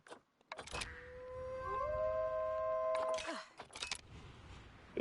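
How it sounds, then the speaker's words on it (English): Wolves howling in the Planet Zoo video game, several long rising and sustained tonal howls overlapping near the middle, with brief noisy bursts around them and no talk. "They're going to be howling."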